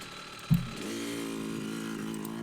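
A motorcycle fitted with a Rekluse auto clutch pulls away in first gear: a sharp thump as it engages, then a steady, close engine drone holding at moderate revs.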